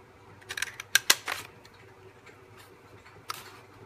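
Scissors or a small paper punch cutting paper for a handmade Christmas card, a quick cluster of close crisp clicks and snips followed by a lone click a couple of seconds later, over a low steady hum.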